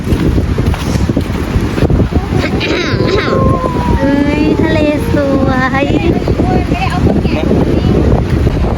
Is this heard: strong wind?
yes